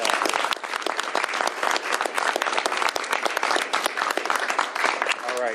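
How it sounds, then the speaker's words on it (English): An audience at a governor's bill signing breaks into loud, sustained applause, a dense close wash of clapping that runs steadily to the end. "let's give her a round of applause that she can hear in Spokane"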